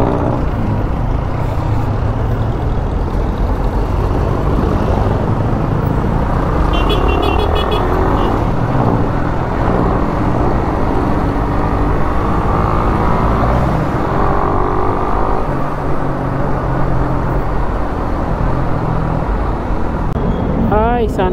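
Dense, steady road traffic roars around a rider on a Raider 150 fuel-injected motorcycle, with engine drone, passing cars and buses, and a continuous loud rumble throughout.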